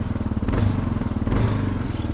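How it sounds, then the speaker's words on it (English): A stock-exhaust 2023 Kawasaki KLR 650 single-cylinder adventure motorcycle idles and blips close by, a loud thumping pulse with two short swells in revs. "a little bit of the exhaust note from the stock exhaust is pretty basic"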